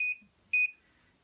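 An RCBS Charge Master 1500 electronic powder scale gives two short, high-pitched beeps during calibration, evenly spaced, clear and close, with quiet in between.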